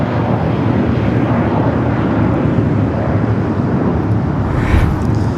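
An Air Premia Boeing 787-9 Dreamliner arriving at LAX makes a loud, broad jet roar that holds steady throughout. Heavy wind rumble sits under it, and a faint higher whine rises briefly near the end.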